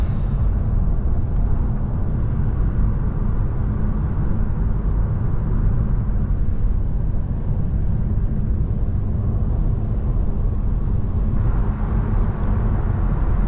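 An Audi E-Tron GT electric coupe, a 2022 model, drives onto the highway. From inside the cabin comes a steady, loud low rumble of road and wind noise that holds without a break and carries no engine note.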